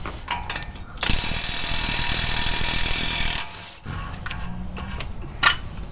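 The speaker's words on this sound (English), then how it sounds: "But since I have an impact gun, I'm gonna use it." Pneumatic impact gun loosening the castle nut on an upper ball joint, a loud sustained rattling burst of about two and a half seconds, then quieter mechanical clicks and a short sharp hit near the end.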